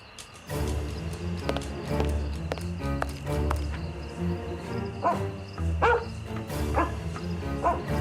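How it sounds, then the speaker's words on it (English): A tracking dog in a Sherlock Holmes PC video game barks repeatedly while following a trail, sharp close woofs scattered over footsteps and a low ambient game backdrop. "Search, Toby. Search. There's a good dog."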